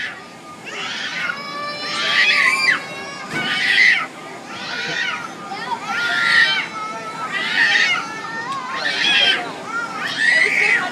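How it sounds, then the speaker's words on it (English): Children shriek and scream in repeated rising bursts on a swinging pirate ship amusement ride, the wails rhythmic with each swing over a constant ride rumble. "They are screaming and having a blast."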